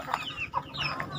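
A chicken clucks in short, repeated bursts close by, several quick calls in a row over a faint background murmur.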